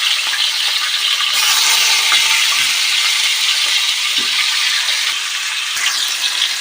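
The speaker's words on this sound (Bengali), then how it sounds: "তো এখানে আমরা আলুগুলো খুব ভালো করে ভেজে নেব" Potatoes frying in hot oil in a pan make a steady, loud, close hiss and sizzle with occasional soft bubbling crackles, and no voices.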